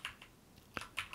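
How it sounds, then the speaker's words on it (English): Keys clack on a computer keyboard during IntelliJ IDEA coding, a handful of crisp, close taps in an uneven rhythm with brief pauses, no talk. "you can just start typing something"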